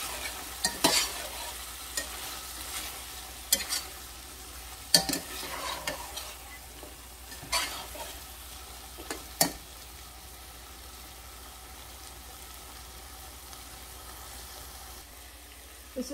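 Masala for a chicken and chickpea curry roasts in a pan, a low steady sizzle broken by scattered scrapes and knocks of a spoon stirring, busier early and quieter later, with no talking.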